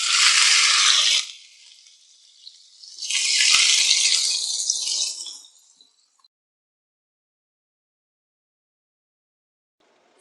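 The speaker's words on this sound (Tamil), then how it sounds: "நம்ம இப்போ தவால கொஞ்சம் தண்ணி தெளிச்சுக்கலாம்" Water sprinkled onto a hot dosa tawa while making street-style egg dosa hisses in two loud sizzling bursts, the second longer, then dies away into silence.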